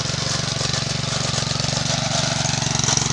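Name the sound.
Hatari engine-powered machine running for splitting porang tubers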